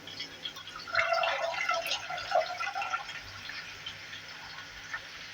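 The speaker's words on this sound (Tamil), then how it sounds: "பட்டாணி கூட நம்ம ஊற வச்சுருக்கோம் இல்லையா, அந்த தண்ணியை வடித்து விட்டுட்டு," Water is drained off soaked green peas in a kitchen, a faint trickling and dripping splash that peaks early and then thins to light drips.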